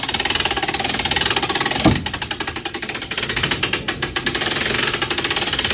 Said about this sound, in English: So just winding it clockwise, you can see it runs on a winch.